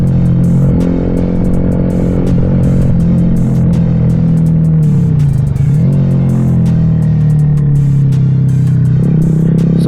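A 2025 Honda Grom SP motorcycle with a Stage 1 upgrade, its single engine running loud and close throughout, the revs rising and dipping with a rough, throaty tone and no talking.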